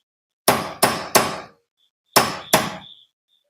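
A hammer strikes a punch on the tie rod of a BMW 328i in five sharp metallic blows, three in quick succession and then two more after a pause, each ringing briefly and heard up close.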